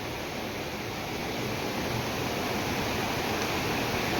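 Water pours continuously over Katisil waterfall near Lanjigarh, a loud, close, unbroken rushing roar with no pauses and no voices.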